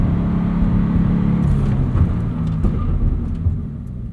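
A Subaru BRZ on 16-inch wheels slows hard from 60 to a stop, a steady loud low road and engine rumble filling the cabin and easing off toward the end, with no talk.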